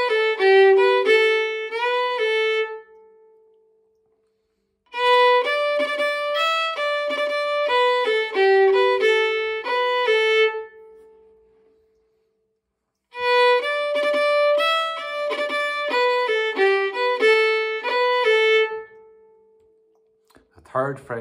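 Hornpipe tune Master Shanley's played on a solo melodic instrument, a bright lilting line in three separate phrases with short pauses between them, clear and close with no talking.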